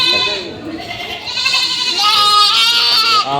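A goat bleats loudly and close by, a long wavering cry that rises in pitch, with a short earlier call just before it, during stormy weather.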